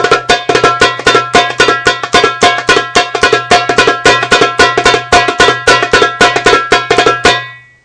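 Darbuka played in a rapid interrupted roll, with accents falling on the ka strokes: a dense, even stream of sharp, ringing hand strikes, loud and close, lasting several seconds and then stopping cleanly, with no voice.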